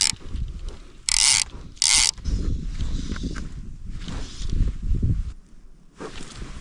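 A fly fishing reel's ratchet buzzes in two brief, sharp clicking bursts as a trout pulls line, set against quiet outdoor rustling by a high mountain lake.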